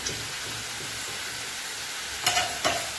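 Chinese pulao rice being stirred with cumin, coriander powder and garam masala in a hot pan: a steady sizzle and hiss with soft scraping strokes, ending in two short louder scrapes of the spoon.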